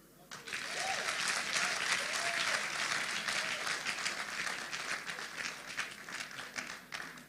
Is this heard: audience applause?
yes